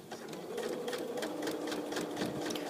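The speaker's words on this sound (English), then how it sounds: "So I'm going to keep sewing" Sewing machine stitching fabric along a folded edge to sew a casing, a steady rapid mechanical chatter running continuously and close, with no talk.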